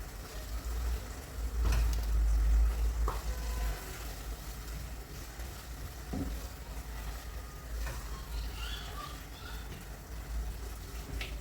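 Minced chicken is gently stirred as it fries in oil, with a soft, continuous sizzle broken by occasional clicks and scrapes from the utensil, all quiet and close.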